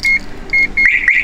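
A car alarm beeps in short repeated high tones, then warbles faster, fairly close and loud over a faint engine rumble.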